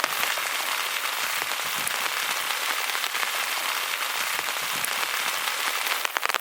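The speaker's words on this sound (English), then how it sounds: "It's really raining." Heavy rain pours steadily during car camping, a dense hiss of drops drumming on a surface, continuous and close with no pauses.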